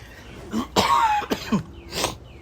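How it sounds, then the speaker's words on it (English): A man with a lingering weeks-long cough coughs several times in quick bursts, close and loud, with some throat clearing between the coughs. "it's been like 3 weeks with this cough I have"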